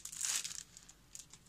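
An empty plastic packet for nail-extension forms is crinkled near the mic in a loud burst of crackling, then a few softer rustles follow, with no talk.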